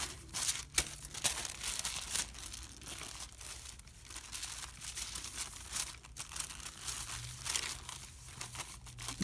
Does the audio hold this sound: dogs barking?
no